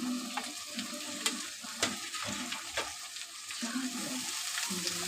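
Prawns sizzle in a pan of lightly browned frying onions, a steady crackling hiss broken by sharp pops and spatters, close and fairly quiet.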